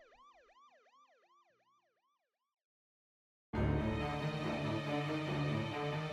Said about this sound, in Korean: 장경훈 심판을 태운 경찰차는 정우의 시야에서 점점 사라져갔다.